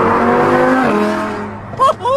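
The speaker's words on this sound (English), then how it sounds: "The car sounds amazing." A second-generation Audi R8 V10 Plus with a Valvetronic exhaust sweeps past, its loud harmonic engine tone sliding downward in pitch and fading, followed by short sounds like voices.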